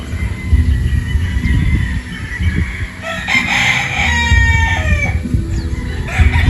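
A Boston Roundhead possum rooster crows loudly and close, a drawn-out cock-a-doodle-doo rising midway, amid steady clucking and farmyard fowl noise.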